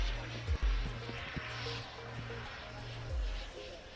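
A turbine-powered model aircraft flies fairly low at the Woodspring Wing Show air show, a steady whining engine tone with low rumble carrying under a voice talking over it.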